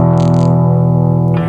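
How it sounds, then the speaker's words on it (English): Humbucker-equipped electric guitar played through a Condor with the gain turned up high, producing nasty power rail distortion: one loud, sustained, buzzing chord ringing on, with a brief scrape of pick noise near the end and no voices. "that is that power rail distortion happening"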